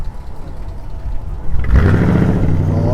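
A 1950s Ford car engine, shown among muscle cars at Brooklands, revs up loudly and close after a stretch of low background rumble, then holds a steady, rising mechanical drone.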